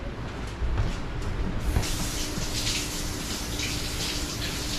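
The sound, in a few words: running tap water washing a dropped squash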